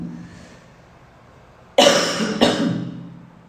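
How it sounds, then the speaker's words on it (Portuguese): Two sharp, close coughs in quick succession, the second slightly weaker, with quiet room noise before them. "Já esfriou e começa essa tossinha chata."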